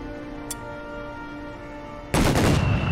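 A destroyer's naval bombardment in Company of Heroes 3 strikes suddenly as a loud, dense, rumbling blast of explosions. It follows a quiet stretch broken by one brief click.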